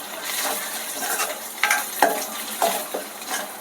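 Fresh curry leaves crackle and sizzle loudly in hot oil in a pan alongside onions and ginger-garlic paste, with a spoon scraping and clinking against the metal several times as they are stirred.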